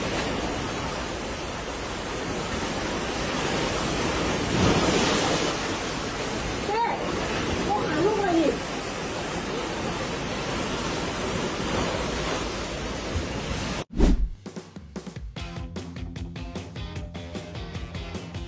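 Ocean water surges and churns in a steady, roaring wash of surf with wind noise, loud and continuous, then cuts abruptly to a different, sparser scene.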